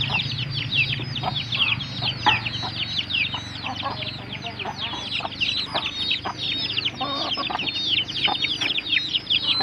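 Kampung hens cluck and squawk continuously close by, a busy overlapping chorus of short calls with rustling and scuffling underneath.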